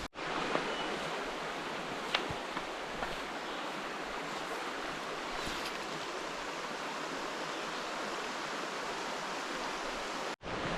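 Constant rushing babble of a small freestone brook trout stream in George Washington National Forest, near and steady, with a few faint clicks and a brief dropout near the end.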